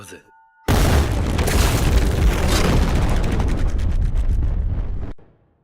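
A big, booming Blue Zone explosion sound effect erupts suddenly and roars with sustained rumbling debris for several seconds before cutting off abruptly.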